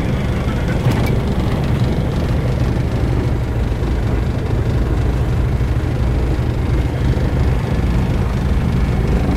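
An engine of a Britten-Norman Islander aircraft runs after starting, giving a steady, loud, close-up roar with no pauses.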